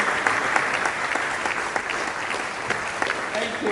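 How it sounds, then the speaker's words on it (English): Sustained applause from a seated conference crowd at a town-gown stakeholders' roundtable, many hands clapping in a thick continuous wash with a few sharper individual claps standing out. "Please, another round of applause for him."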